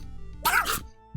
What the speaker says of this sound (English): That's how he sneezes.